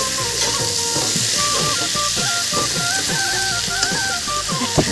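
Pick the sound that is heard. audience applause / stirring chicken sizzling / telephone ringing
stirring chicken sizzling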